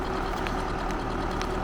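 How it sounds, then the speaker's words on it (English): An old tractor engine runs steadily nearby, a continuous low mechanical drone with a faint whine and a few light clicks, with no talking. "That's an old tractor"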